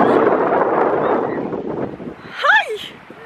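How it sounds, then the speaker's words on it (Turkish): Strong gusts buffet the microphone at a windy pebble beach by the sea, a loud rushing roar for about two seconds before easing, followed by a brief voice. "burası o kadar çok esiyor ki girebilir miyim bilmiyorum"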